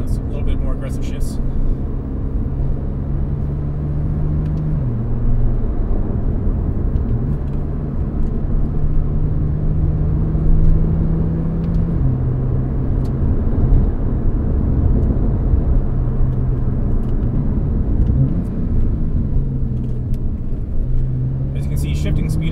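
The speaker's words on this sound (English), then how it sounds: "So I have the car in manual mode. I'm also using the sport button. So a little bit more aggressive shifts." A Porsche with a PDK gearbox, run in manual mode with the sport setting, drones loudly and steadily from inside the cabin, its engine pitch stepping down at several gear shifts, with a voice talking over it.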